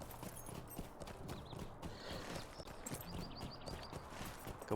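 Horse hooves clip-clop at a steady trot while riding in Lord of the Rings Online, a soft, even rhythm that carries on throughout with no talking.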